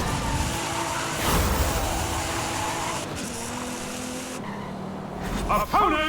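Volkswagen Beetle racing in Forza Horizon 5, a steady engine drone with tire noise running throughout at fairly high level, ending in a brief louder burst with squeal-like tones.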